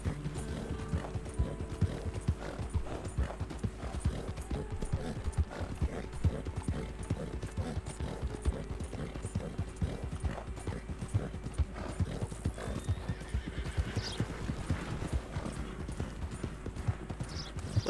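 A horse in Red Dead Redemption 2 gallops hard without a break, dense, loud hoofbeats close by, with a brief whinny and some faint mechanical clicking from the tack.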